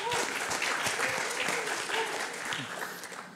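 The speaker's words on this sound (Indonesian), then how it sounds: "Aplaus dulu untuk Mas Mamet dulu." Applause from the audience at an Indonesian football press conference on the 2023 U17 World Cup, a dense burst of clapping from a room of people that tapers off toward the end.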